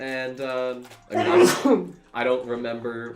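A person sneezes once in the middle, loud and close, between stretches of someone talking while packing orders.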